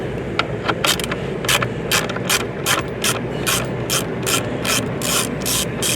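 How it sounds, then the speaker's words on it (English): A ratcheting wrench with a 10mm socket backs out screws on a 2023-2026 BMW M2, giving fast rhythmic clicking in repeated short bursts, close and clear against a steady background hum. "we're going to be removing these two center screws right here using a 10mm socket"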